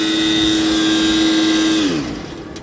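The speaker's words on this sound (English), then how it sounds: "you can hear a sound from that pipe. Air is going inside." Air rushing into a truck's grease trap pipe through an opened valve makes a loud, steady whistling hiss with a strong tone that drops in pitch and fades near the end, heard close with no talking.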